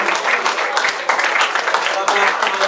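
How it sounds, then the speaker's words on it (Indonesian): Audience at an evening motivational seminar applauding steadily, a dense, even wash of many hands clapping close and loud throughout, with no pauses. "tepuk tangan dulu buat pembicara kita luar biasa Pak Freddy dan juga MC kita malam hari ini Pak Johan, tepuk tangan luar biasa."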